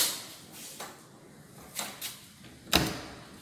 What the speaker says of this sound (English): Door closes quite easily.